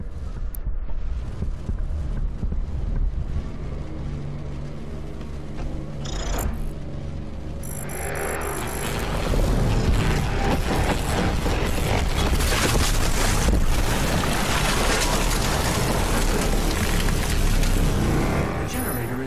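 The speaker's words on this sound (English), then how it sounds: "The generator is overloading." Overloading main generator in Doom Eternal, a loud continuous mechanical rumble that swells and grows denser partway through, with a voice speaking near the start.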